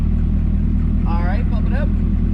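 A 2019 Chevrolet Corvette ZR1 engine held at floored throttle on track prep, a loud, steady, close drone with a constant low pitch throughout and a voice briefly speaking over it midway.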